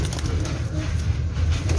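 A pigeon kept in a loft coos in low, throaty repeated calls close by, with a steady rumble of background noise underneath.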